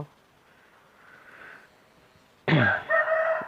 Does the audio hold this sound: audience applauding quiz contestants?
no